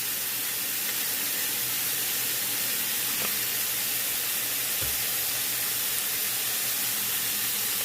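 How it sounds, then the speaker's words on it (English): Ground beef sizzles in a hot skillet, a steady broadband hiss running evenly throughout with no talking. "We got our skillet hot and put that meat in there."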